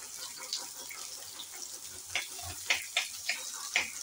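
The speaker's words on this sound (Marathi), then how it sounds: "हे बघा, कांदा आता असा भाजलेला आहे." Sliced large onion frying in a little oil in a pan gives a soft continuous sizzle, punctuated by several crackling pops and light stirring clicks that grow more frequent toward the end, with no speech.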